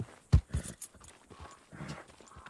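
Horse hooves in the western video game Red Dead Redemption 2, a few soft, uneven clip-clop thuds at close range over quiet ambience.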